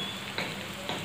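Mustard paste fries in a pan with water just added, producing a soft, continuous sizzle with a couple of brief brighter spits, fairly quiet and close.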